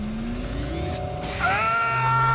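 A car at full throttle in The Grand Tour game revs up with a rising, whining engine note, then surges into a louder, higher pitch as it launches, close and unbroken.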